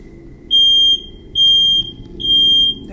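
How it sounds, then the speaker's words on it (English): A smoke alarm in a house sounds three loud, piercing electronic beeps, evenly spaced, with a quiet room in between. "The ghost seems to turn the smoke alarm on upon her mention."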